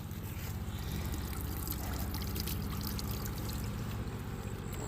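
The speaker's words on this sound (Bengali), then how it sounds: "যেহেতু এটা নিচের থেকে অটোমেটিক আসতেছে পানিটা" Groundwater welling up naturally from below the ground in Oman, a steady, continuous trickling and pouring of water close to the microphone with no talking.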